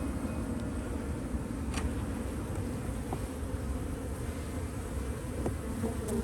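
A swarm of honeybees hums steadily around an open hive box at an apiary, a continuous close buzzing drone with individual bees zipping past now and then.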